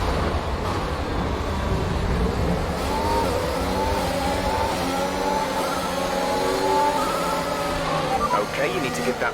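F1 2021 race cars scream around Monaco in an online lobby race, engines revving up and down through gear changes in rising and falling whines, close and loud, with a voice talking over them.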